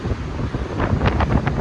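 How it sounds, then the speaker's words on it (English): Steady wind buffets the microphone in a continuous low rumble on the Tunnel of Nine Turns Trail, with brief hissy gusts toward the end and no voices. "Sorry if this bit is really windy"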